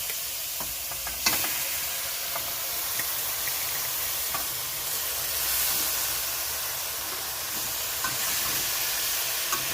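Grated coconut and sugarcane jaggery sizzle in a hot wok while being stirred to make coconut sweets, a steady hissing fry with occasional scraping stir strokes, close and continuous.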